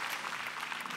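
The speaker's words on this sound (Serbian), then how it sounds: "Molim za aplauz za ovu lepotu." A studio audience on a television show applauding steadily, a soft, even wash of many hands clapping at moderate distance for about a second, with no voices over it.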